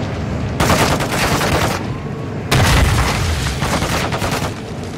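Heavy gunfire in the game Modern Warfare 2: dense bursts of automatic fire and booming shots in two loud volleys separated by a brief lull.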